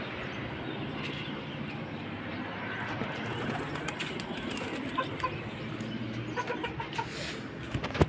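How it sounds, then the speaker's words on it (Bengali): Dense, busy bird noise fills the whole stretch: caged Shirazi pigeons cooing and fowl clucking close by, a steady chorus with occasional sharper calls and no talking. "এই এখানে দেখতে পাচ্ছেন এক জোড়া কবুতর, এটা হলো সিরাজি কবুতর"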